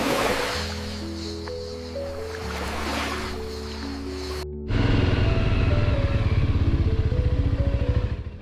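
A motorcycle rides across beach sand beside the sea in Croatia, its engine droning steadily up close, then growing louder and rougher partway through, with no talking.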